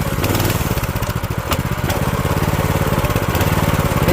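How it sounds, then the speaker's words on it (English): An old motorcycle engine, long left sitting, runs rough and loud with the choke out, a steady pulsing engine drone that rises briefly when revved, with no talk over it. "when you rev it up with the choke out, it definitely dies"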